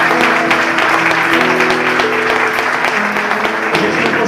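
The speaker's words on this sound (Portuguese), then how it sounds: "Então aplauda ele aí." A church congregation applauds loudly and steadily while sustained musical tones hold underneath, the clapping continuing evenly throughout.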